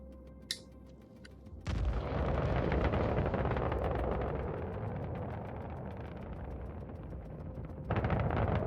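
A torpedo launched from a Retaliator ship in the Star Citizen game, a sudden loud roaring whoosh of the launch that sustains as a heavy rumble, then swells again near the end.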